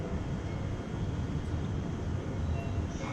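A steady low rumble fills the whole stretch, like a train drawing near in the distance, with a constant broadband roar and no voices.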